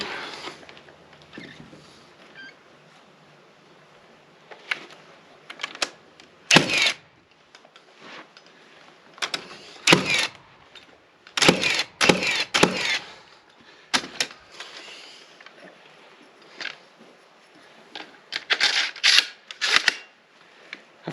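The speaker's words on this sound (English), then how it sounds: "I find you go through a lot more nails with a cordless nailer than you would if you're nailing by hand" A cordless nailer fires nails into wood while framing on a building repair job, giving sharp, irregular snaps and thuds, sometimes single and sometimes in quick bursts, between quiet stretches of handling.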